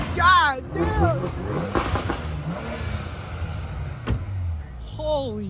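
Straight-piped BMWs, an M2, an X3M Competition and a manual 335i, roar past on a quiet backroad. Loud revving exhaust rises and falls with a few sharp pops, while excited voices talk over the engines.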